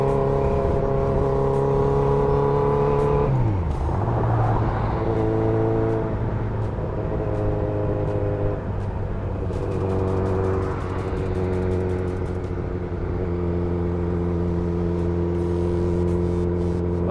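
Kawasaki Z900 motorcycle riding on a highway through a ghat section, its engine droning steadily with pitch rising and dipping through gear changes under constant wind noise.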